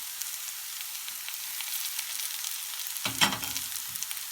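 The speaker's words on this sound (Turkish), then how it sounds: "Soğanlarımızı güzelce kavurduk." Onions sizzle steadily in a hot pan, crackling and hissing, with a brief scrape of stirring partway through.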